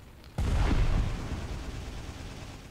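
A grenade goes off in the World War II shooter Heroes and Generals, a sudden loud blast that booms and then rolls into a long rumbling decay with debris noise, alone without voices.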